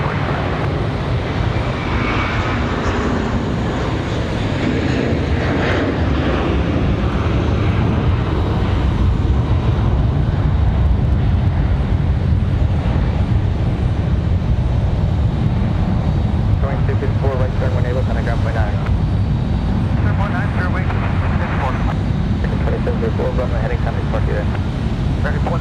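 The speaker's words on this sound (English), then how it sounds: "It's got a departure here. Looks like our A321 back to Charlotte." An Airbus A321 departs runway 22 left at Raleigh-Durham International in windy conditions, its engines a loud, sustained broadband roar that swells slightly as it climbs away.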